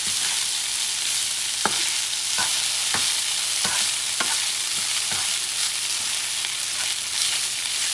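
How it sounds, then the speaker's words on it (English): A wooden spoon stirs chicken fried rice in a sizzling pan, making repeated scraping strokes every half second or so over a constant frying hiss, close up and without speech. "Mixing things down. I'm using a wooden spoon."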